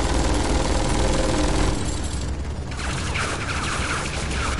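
Gunfire in the video game Tales from the Borderlands: loud, dense bursts of rapid shots with mechanical clatter, continuous throughout, easing slightly midway before the barrage picks up again.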